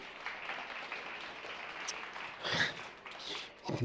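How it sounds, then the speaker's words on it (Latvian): An awards ceremony crowd applauds the nominees for a housing project prize, a moderate wash of clapping that swells briefly near the end, with scattered louder claps and a brief voice. "Aplausi nominantiem!"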